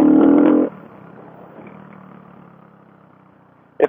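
CCM Spitfire 600 single-cylinder motorcycle engine: a short, loud, gruff burst that cuts off into a quiet low idle thrum, ending with a sharp click.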